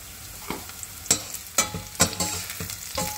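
Garlic frying until browned: a soft, low sizzle broken by a handful of sharp spatula scrapes and taps about every half second, close and alone.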